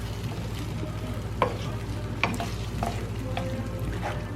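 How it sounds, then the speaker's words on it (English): Vegan bolognese sizzles in a pan while a utensil stirs it, giving a steady frying hiss broken by several sharp scrapes and knocks against the pan. "Give it another bit of a stir around."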